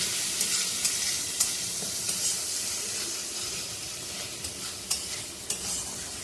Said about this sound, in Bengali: আগে আদা রসুন আর লঙ্কা বাটা আগে ভেজে দিচ্ছি।